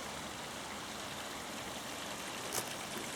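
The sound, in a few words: stream gurgling beside hillside path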